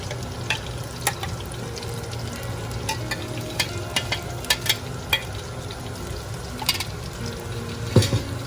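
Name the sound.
stirring biryani masala frying in hot oil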